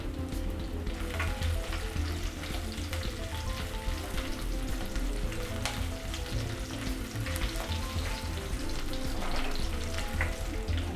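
Chilli pieces sizzle in hot oil with garlic while red leafy vegetable bhaji is prepared, a continuous dense crackling fry with light stirring, close and even throughout, and no talking.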